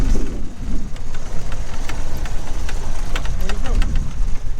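A golf cart engine runs steadily with a low rumbling drone, close and loud, and some light clicking rattles on top.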